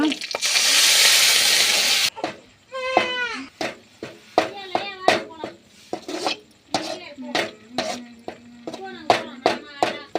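A loud burst of sizzling as curry leaves and tomato chutney hit hot oil, followed by steady frying while a voice talks over the pan.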